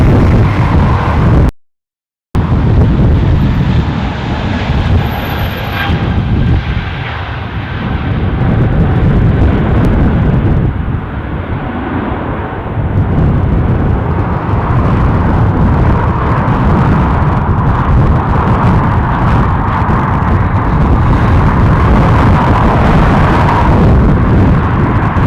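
A London Heathrow flight landing at Dublin airport, a loud, sustained roar of jet engines and rushing air that fills the whole stretch, broken by a brief dropout near the start and swelling and easing slightly as the aircraft passes close by.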